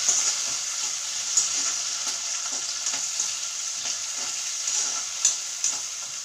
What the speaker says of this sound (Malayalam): സവാള നമുക്ക് വാടി കിട്ടുമ്പോൾ നമ്മുടെ സ്ലൈസ് ചെയ്ത് വെച്ചിരിക്കുന്ന തക്കാളി ഇതിലേക്കിട്ട് വീണ്ടും ഒന്ന് ഇളക്കി കൊടുക്കാം.